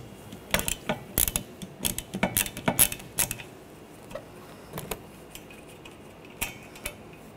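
A ratchet with a 15 millimeter socket works a nut loose under a 2013-2019 Ford Escape, giving bursts of quick metallic clicks and clinks with short pauses between them, close and moderately loud.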